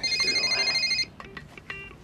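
A telephone rings in a warbling electronic trill for about a second, close and loud, then stops, leaving quiet clicks and faint room noise.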